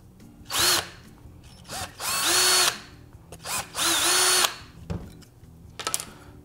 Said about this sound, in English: I'm just gonna use a 1/16 inch drill bit really quick